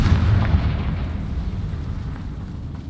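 A Confringo spell explosion in the video game Hogwarts Legacy bursts with a loud, deep boom that decays into a rumbling tail over a few seconds.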